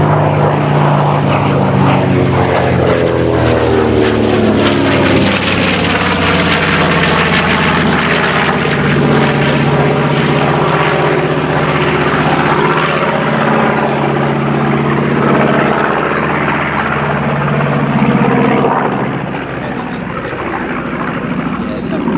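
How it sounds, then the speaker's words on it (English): A B-25 bomber's piston engines drone loudly and steadily as it makes its final low pass at a Flying Bulls air display, a sustained propeller roar filling the whole stretch and easing slightly near the end. "So this will be the last pass of the B-25."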